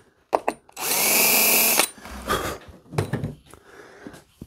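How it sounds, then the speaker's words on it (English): Power drill driving a screw into the sheet metal of an Aviation Products P-51 pedal plane, one loud close whirring burst of about a second, followed by a few clanks and handling knocks. "put a couple screws to hold this on"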